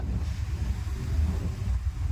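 Cold wind blows outdoors, heard as a steady low rumble buffeting the microphone throughout the short stretch.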